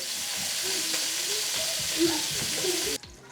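Meat sears in fat in a pan with a continuous loud sizzle and occasional stirring scrapes. Near the end it cuts off abruptly to quiet.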